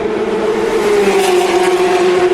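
Steady, continuous engine drone of race cars running at speed during a 14-hour endurance race, a sustained whine holding one pitch with no pauses, heard from a distance.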